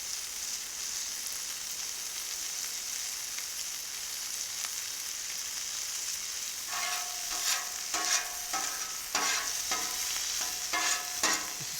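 Sausage fries on a Cuisinart 360 XL griddle with a steady bright sizzle that grows busier and crackly partway through, punctuated by a few spatula scrapes.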